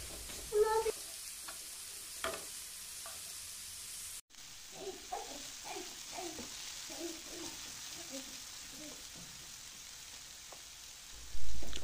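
Vegetables sauté in a pan over medium heat, with a faint steady sizzle and occasional stirring clicks. The sound has a brief cut partway through, and a quiet voice may be present.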